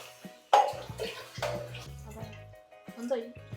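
Tomato water is poured from a vessel into a biryani pot, giving a short liquid splash and gurgle. A voice talks over part of the pour.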